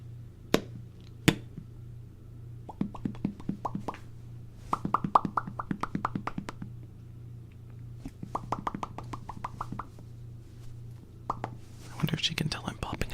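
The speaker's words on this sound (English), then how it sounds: "I wonder if she can tell I'm popping at her." Close, soft mouth pops in an ASMR sleep session, short sharp plops coming in irregular bursts and clusters over a steady low hum, with faint whispery breath between them.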